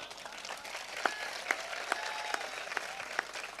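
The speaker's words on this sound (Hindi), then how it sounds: "इसमें कोई ताली बजाने की बात नहीं थी" An audience at a Hindi comic poetry gathering applauds faintly and at some distance, with a soft wash of clapping marked by a few sharper claps at intervals.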